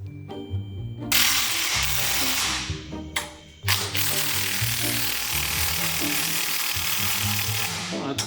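A ratchet wrench works a stubborn bolt that fixes a plate to an engine block. Loud, close, rapid pawl clicking goes in repeated strokes with brief pauses between pulls.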